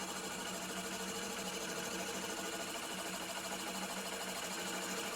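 A wood lathe turns steadily while a bevel-rubbing gouge cuts the spinning workpiece, giving a continuous, even whirring drone with no talk heard.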